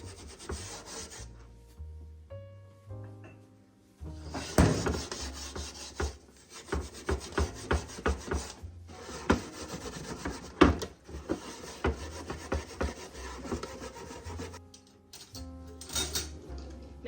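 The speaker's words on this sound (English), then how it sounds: "Okay, then we're gonna go in and scrub." A dirty crockpot is scrubbed by hand in short, repeated rasping strokes, close and fairly loud, broken by brief pauses with no talking.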